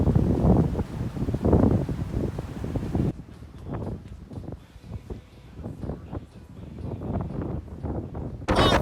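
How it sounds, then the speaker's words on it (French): Strong coastal wind in Brittany roars and buffets the microphone in heavy, uneven gusts, a continuous low rumble with no talking. "Le vent atteint ici des centaines de km/h."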